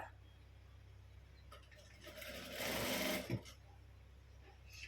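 A sewing machine stitches a puff sleeve in one short burst of about a second: a fast, steady mechanical whir that rises from a quiet room and stops abruptly.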